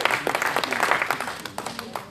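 Audience applause at a pastors' anniversary gathering for Brother Paul Daniel, a dense burst of many hands clapping, close and steady throughout.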